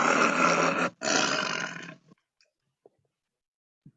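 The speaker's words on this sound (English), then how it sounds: "The tiger is roaring for food." A tiger roars twice in close succession, loud and near, each roar about a second long with a brief gap between, followed by quiet with only a few faint clicks.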